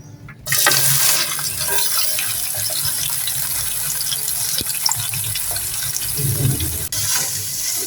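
Chopped onions hit hot oil in a pan for a desi-style phindi (okra) dish, setting off a steady, loud, close hiss and crackle that starts abruptly and keeps going without voices.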